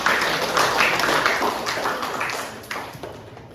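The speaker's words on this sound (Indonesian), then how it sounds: "berikan tepuk tangan" Schoolchildren in a classroom clap for a group after its presentation, a burst of scattered, overlapping hand claps that thins out toward the end.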